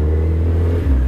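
A 1000 cc Yamaha R6 sport motorcycle engine runs loud and close, a steady droning rev that dips briefly and then swells again.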